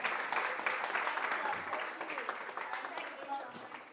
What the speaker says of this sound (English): Let's give Elisa also a big round of applause for organizing this.